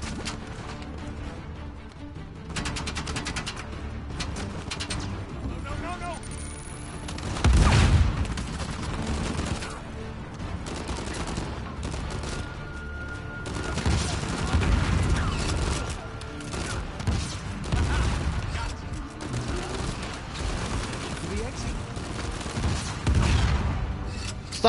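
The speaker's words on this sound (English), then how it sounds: "Stop shooting me." Gunfire in the video game Uncharted 4: A Thief's End, bursts of rapid shots and heavy booming impacts spread over a long firefight, with some louder explosive hits amid continuous combat noise.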